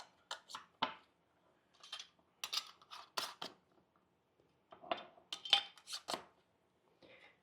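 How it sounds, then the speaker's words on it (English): Lids being screwed onto glass canning jars of pickled peppers, a series of short metallic clinks and scraping twists in small clusters, close and fairly quiet, with no talking. "Now we'll put our lids on,"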